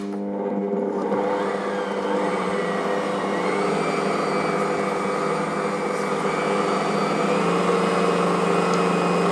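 A stand mixer whirs steadily and loudly as it works a sourdough hot cross bun dough, a constant motor hum with no talk over it.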